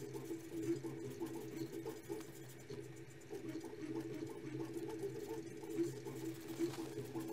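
A Creality 3D printer paired with a Sonic Pad runs at very high speed, its stepper motors whirring in a steady, buzzing, rapidly pulsing hum, faint and constant.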